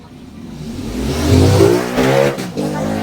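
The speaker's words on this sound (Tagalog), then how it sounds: "Ito yung motor yung kaskasero" Motorcycles rev up loudly, rising and surging for a couple of seconds before dropping and revving again, close by.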